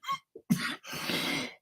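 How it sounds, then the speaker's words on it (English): A single person coughs several times in short bursts, close and fairly loud, with a throat-clearing quality. "See, I got a little cough there."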